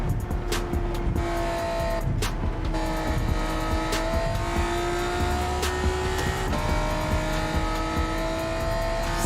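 A VTEC engine screams at high revs in a Gran Turismo 7 race car, loud and continuous, its pitch climbing steadily through the band with brief tire squeal and shifts breaking the whine.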